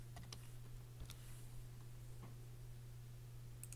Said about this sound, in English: I'm going to type live.